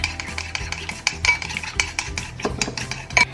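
A utensil stirs and clinks against a bowl while mixing tomato salad dressing, quick scraping and tapping strokes repeating close up with no voices.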